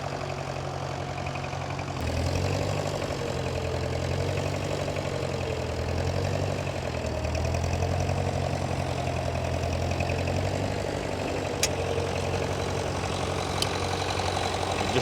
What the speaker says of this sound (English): Here we've got an International, a B275 with 2 Furrow plough on.